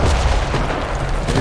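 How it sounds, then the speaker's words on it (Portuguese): A bomb hits a tank in the game Enlisted, a loud, close, heavy boom with a dense rumbling roar that fills the whole short moment. "Toquei uma bomba no tanque."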